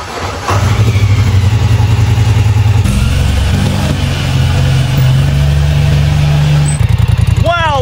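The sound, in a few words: Polaris Sportsman 1000 XP ATV engine running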